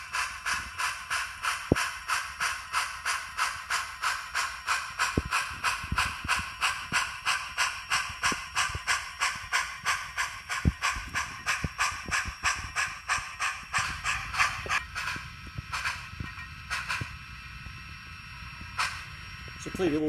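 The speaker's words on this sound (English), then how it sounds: "Got the proper articulated cylinder chuff" A Bachmann EM1 model steam locomotive fitted with a Soundtraxx Econami decoder gives a steady, even chuff from its articulated cylinders over a hiss, the beats drifting in and out of sync for about fifteen seconds before easing off.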